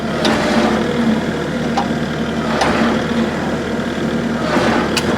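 A tractor engine runs steadily at a low idle while reversing to shift the tongue of a hay tedder on a farm, a continuous close rumble with a few faint clanks over it.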